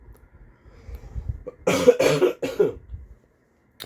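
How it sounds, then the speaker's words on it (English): A few harsh coughs in quick succession, close and loud, after a moment of quiet low rumble. "I am going to cough at some point during this video"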